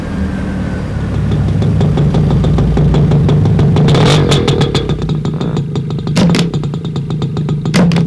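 A vehicle engine idles loud and close with a steady throbbing rumble and a mechanical clatter, broken by a few sharp clicks and knocks near the end.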